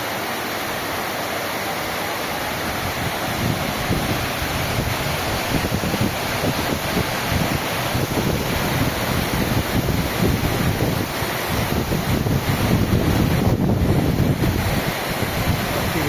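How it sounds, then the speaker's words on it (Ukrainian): Strong wind roars steadily across the microphone in the mountains of Zakarpattia, Ukraine, a dense continuous rush with gusts swelling toward the end and no voices. "вітер"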